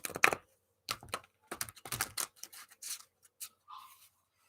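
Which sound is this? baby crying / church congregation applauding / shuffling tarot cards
shuffling tarot cards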